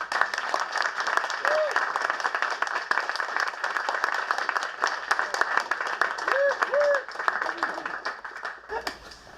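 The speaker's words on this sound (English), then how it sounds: "give him a big round of applause" An audience at a Startup Grind Sacramento event claps for a guest, a moderate-sized round of applause that holds steady before fading near the end, with a few faint voices underneath.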